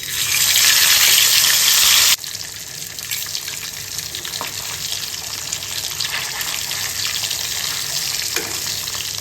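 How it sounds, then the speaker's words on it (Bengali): Hilsa fish coated with cumin paste hits hot oil over a slow, low flame, starting with a loud bright hiss that drops after two seconds into a steady, softer sizzle. "সময় নিয়ে একটু আস্তে জাল দিয়ে মাছটা ভাজতেছি"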